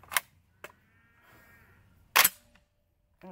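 A Panzer Arms BP-12 12-gauge shotgun fires two loud, sharp blasts about two seconds apart outdoors, with a softer mechanical clack and faint movement noise between them.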